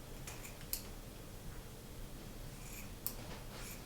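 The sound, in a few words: scissors cutting a ribbon bow at an angle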